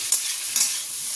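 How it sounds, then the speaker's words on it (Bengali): Onions and vegetables sizzle steadily in a pan after a tempering of black cumin and green chili. Two brief stirring scrapes rise above the constant close frying hiss, with no voices. "কালো জিরে আর কাঁচা লঙ্কা ফোড়ন দিয়েছি, দিয়ে আর পেঁয়াজ দিয়ে সবজিটা ভাজছি"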